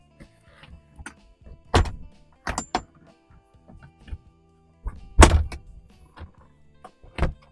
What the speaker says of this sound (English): Taking the top down is much easier.